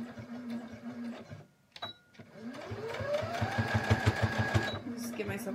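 A sewing machine stitches a short back stitch at the end of a seam on mittens, its motor whirring up with a rapid rhythmic clatter, close and loud, after a stretch of low humming and a brief pause.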